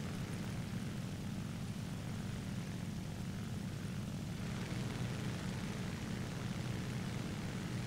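A squadron of propeller aircraft in War Thunder drones past, a dense, steady engine roar that swells slightly midway and holds loud throughout, with no talking.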